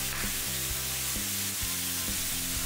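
Pork belly (liempo) sears in a pan, rendering its own fat, with a steady close sizzle and fry hiss and periodic low thumps or taps over it.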